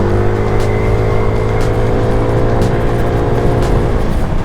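Rusi Pulse 150 Fi scooter cruising at about 40 km/h, its steady engine drone and road rumble continuous and close, with occasional faint ticks and no talking.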